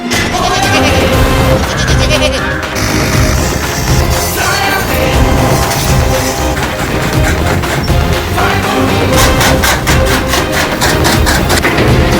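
Goats bleating on a goat farm of about 500 animals, a loud, continuous din of many overlapping calls filling the whole stretch without a break.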